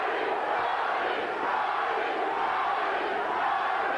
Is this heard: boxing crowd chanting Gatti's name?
yes